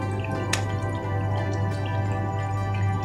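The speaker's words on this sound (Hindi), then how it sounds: "इसके अंदर अब हम डालेंगे, ये हमने थोड़ी सी ना कसूरी मेथी रखी हुई थी पानी में भिगो के।" Water-soaked dried fenugreek leaves (kasuri methi) drip and squish softly as they go into a pot of chicken korma, a few light wet splats over a steady kitchen hum.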